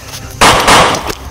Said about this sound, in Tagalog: May putok naman eh!